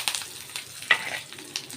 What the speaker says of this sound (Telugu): పోపు కొంచెం వేగనిద్దాము.